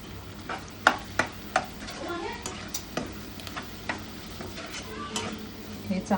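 Curry leaf chutney stirred into a pot of sambar, with repeated sharp clinks of a spoon against the pot over a soft sizzle and a brief voice in the background.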